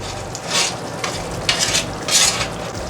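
Leftover roast lamb with oregano, salt, pepper and other spices being stirred in a hot pan over medium heat, with a steady sizzle and several louder scraping sweeps of the spoon.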